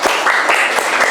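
A brief burst of audience clapping in a classroom setting after student group presentations, close and fairly loud, a dense patter of hands.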